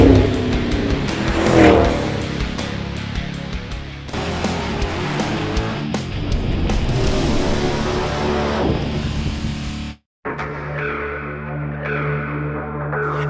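Supercharged and tuned 2007 Dodge Magnum RT with a 5.7 Hemi V8 running its stock exhaust, a loud steady engine roar under load that cuts out abruptly and returns as a lower, steadier drone.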